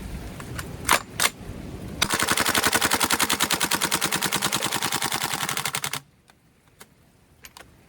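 A KWA F90 gas airsoft rifle on a cool 55-degree day empties a full magazine in one rapid, even burst of close, sharp shots lasting about four seconds, with a few isolated clicks before and after.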